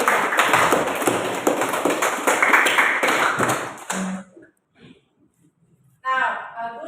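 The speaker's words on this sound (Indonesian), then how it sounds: "Oke, tepuk tangan untuk Fitri." Dense classroom applause from students rings out for a pupil named Fitri, loud and sustained for about four seconds, then stops abruptly into near silence before a teacher starts speaking.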